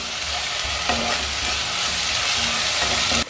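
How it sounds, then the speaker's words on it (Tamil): Masala sautés in a pan with a loud, continuous sizzle and the rasp of stirring from start to finish, close by and without speech. "நல்லா பச்சை வாசனை போகிற வரைக்கும் வதக்கணுங்க."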